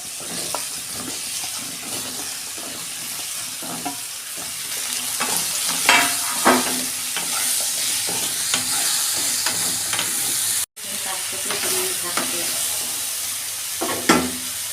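Ridge gourd and potatoes fry in a pan for jhinge aloo posto, with a steady loud sizzle and repeated scraping stirs of a spatula against the pan throughout.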